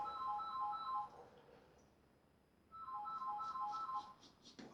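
A telephone rings in the background with two bursts of warbling electronic trills separated by a pause, faint and distant in an otherwise quiet room.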